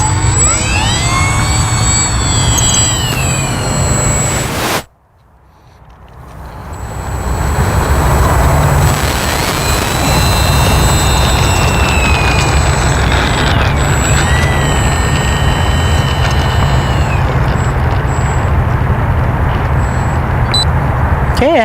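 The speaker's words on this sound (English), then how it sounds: "I'm just going to throttle up, and the D300 should come right off the ground by herself." D300 RC airplane with HSD gyro throttling up for takeoff, its electric ducted-fan engine rising to a loud, steady, high-pitched whine that holds for many seconds after a brief dip, close by.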